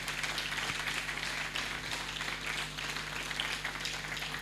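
A church congregation claps in steady, fairly quiet applause, a soft, even patter of many hands heard from a moderate distance for a few seconds.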